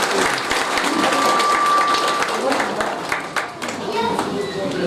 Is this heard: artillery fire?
no